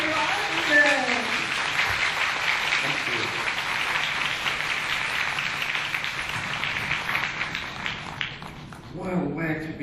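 Sustained applause from a seated audience welcoming dog-behaviour trainer John Rogerson at a lecture, dense steady clapping filling nearly ten seconds, with a few voices near the end as it fades.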